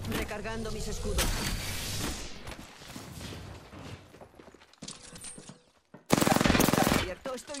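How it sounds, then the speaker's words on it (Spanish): Rapid gunfire bursts and fusillades from the Apex Legends video game crackle in clustered volleys, a loud burst closing the sequence, mixed with game voice lines spoken over the action. "Abierto, estoy recibiendo disparos. Abriendo fuego."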